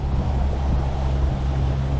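Wind blowing outdoors on a boat during a fishing trip in Canada, a steady low rumble with a constant engine-like hum and gusts hitting the microphone, no voices.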